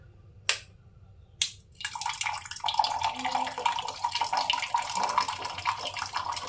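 A switched-on solenoid valve lets water rush through: two sharp clicks first, then a steady, moderately loud gushing flow that continues to the end.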